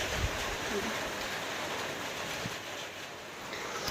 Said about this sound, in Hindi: दे मौसम खराब हो गया एकदम पानी गिरत है।